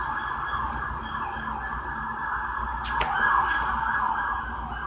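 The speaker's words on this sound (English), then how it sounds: "Hear that siren." A wailing siren sounds steadily at moderate distance, its pitch sweeping up and down over a low traffic rumble.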